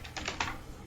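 A few quick keystrokes on a computer keyboard, close and fairly soft, ending with a sharper final tap.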